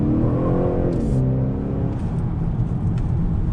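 A 2019 Honda Accord Sport 2.0T accelerates on throttle, its loud engine note rising steadily in pitch from inside the cabin as it pulls.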